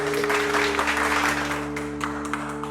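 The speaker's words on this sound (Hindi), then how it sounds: "तालियों से स्वागत किया जाए इनका एक बार।" Welcoming applause at a comedy mushaira stage show, a steady, moderately loud burst of crowd clapping that fades slightly toward the end over a constant electrical hum.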